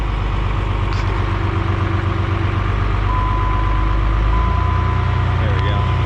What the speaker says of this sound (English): We'll get the high idle going.